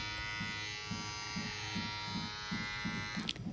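An MI electric trimmer running close by, giving a steady high buzz with a rapid pulsing hum underneath, alone and unbroken until a brief clatter near the end.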